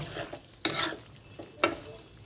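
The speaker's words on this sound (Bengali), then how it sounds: "আলু সিদ্ধ মাছগুলো কষিয়ে নেব" Potatoes and shing fish sautéing in a pan, with a low sizzle broken by two sharp scraping stirs of the spatula against the metal, loud and close.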